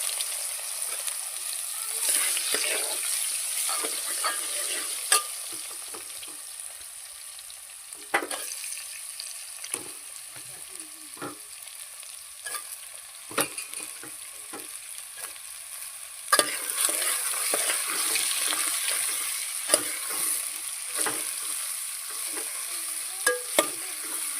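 Ridge gourd is fried and stirred in a pan for a festival home meal, a steady sizzle running throughout with repeated scraping stir strokes and sharp clacks of a spoon against the pan, close and without talk.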